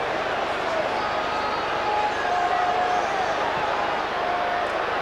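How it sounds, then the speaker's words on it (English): Steady roar of a large Australian football crowd at a 1999 Carlton versus St Kilda AFL match, a continuous wash of massed voices rising as they call for a player, with faint commentary beneath. "The crowd are calling for him"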